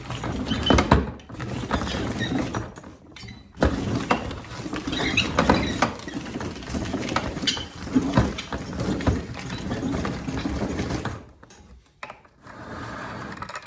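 A hand-cranked apple cider press in a woodshop gives off continuous mechanical grinding and ratcheting, loud and close, with brief pauses in the turning and a quieter stretch near the end.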